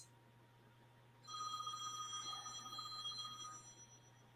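A telephone rings in a quiet room with a bright, trilling electronic bell that starts suddenly and keeps going for a couple of seconds before fading, with a low steady hum underneath and no talk.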